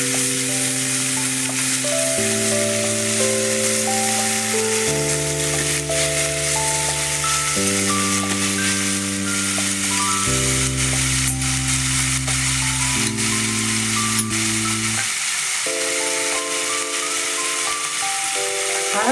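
Boiled val bean pods fry in hot oil with asafoetida, giving a steady, even sizzle that runs beneath loud background music throughout.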